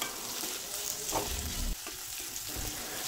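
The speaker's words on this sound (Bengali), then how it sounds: "পেঁয়াজগুলো দিয়ে একেবারে বাদামি করে ভেজে নেব।" Chopped onions fry with garlic in a pan, producing a steady, fairly loud sizzle with stirring scrapes and no voices.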